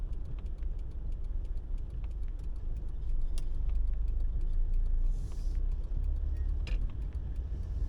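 Inside a car heading out onto a highway, a steady low engine and road rumble fills the cabin while a turn signal ticks rhythmically throughout, with no talking.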